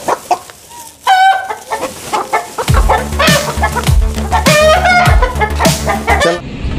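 Golden Buff chickens cluck loudly and close by in quick, repeated bursts as they are put into a sack, with a rooster's call mixed in and a rustling, bumping background.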